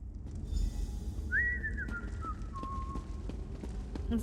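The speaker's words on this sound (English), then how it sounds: "Is that me whistling?" A character whistles in the Elder Scrolls Online video game, a clear descending whistled melody of a few sliding notes over steady game ambience.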